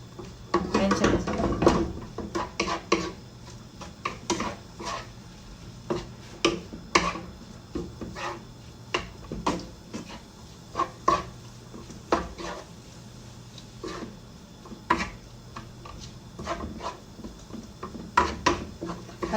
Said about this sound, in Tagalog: Haluin lang natin hanggang sa maluto yung chicken.